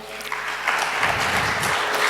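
Audience applause at an academic symposium on morality and criminal justice, a steady wash of clapping from a seated crowd that swells slightly after the opening and holds moderately loud.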